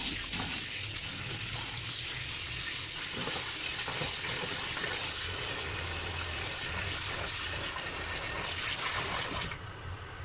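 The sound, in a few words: rinsing with cold running water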